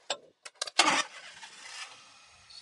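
A Daihatsu 4x4 with a five-speed engine cranks in a few short bursts, catches and settles into a steady idle, heard up close.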